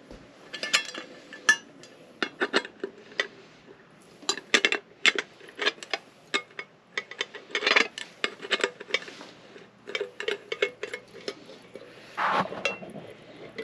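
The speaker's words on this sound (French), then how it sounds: "on va commencer par le montage de la poignée sur le couvercle" Metal and plastic parts clink and knock as a handle is mounted onto a lid in a converted bus, a string of irregular close taps and clatters with short pauses.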